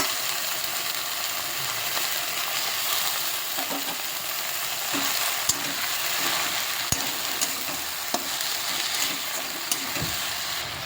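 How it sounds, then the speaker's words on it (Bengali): Chopped jute leaves fry in a pan, giving a continuous even hiss of sizzling oil with a few faint clicks and scrapes of stirring. "এবার এটাকে ভেজে নেব।"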